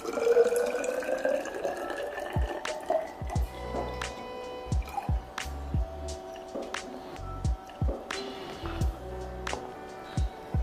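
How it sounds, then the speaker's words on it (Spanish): Distilled water is poured into a graduated cylinder in a lab, giving a close trickle with bright rising filling tones, then irregular drips and small splashes at low volume. "Y lo ponemos en esta probeta."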